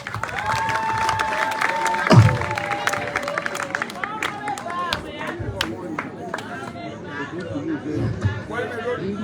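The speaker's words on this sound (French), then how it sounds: "sous vos acclamations, s'il vous plaît." Crowd at a campaign rally in Bitam, Gabon, cheering and clapping in a dense, sustained roar with chatter and scattered shouts, a brief louder burst early on, continuing throughout.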